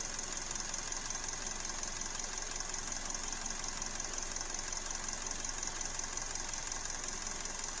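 A Hyundai engine idles with a cylinder misfire, giving a steady close mechanical hum with a faint, irregular knocking running through it and no one talking.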